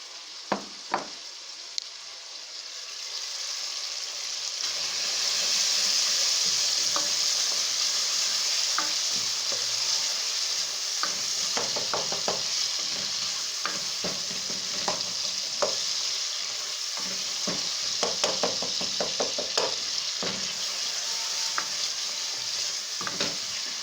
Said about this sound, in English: It's the one we want to fry now, okay?